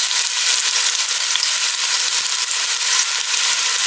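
Chicken and pork sauté in oil with salt for adobo, giving a loud, dense, continuous sizzle and crackle close by throughout, with no talking.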